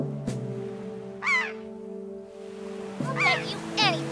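A flock of seagulls gives a few separate harsh, sweeping cries over a continuous humming musical drone, with calls spaced out and clustering toward the end, circling a fortress building in a Wind Waker scene.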